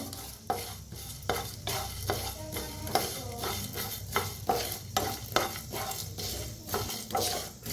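Whole spices for sambar dry roasting in a pan, with repeated close scraping strokes of a spoon against the metal and a light rattle of seeds, no voices.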